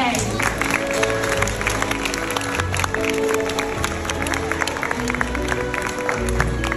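Audience applause fills a school graduation prize-giving ceremony as an award presenter is called up: dense, steady clapping from a large crowd throughout, with a faint tonal background underneath.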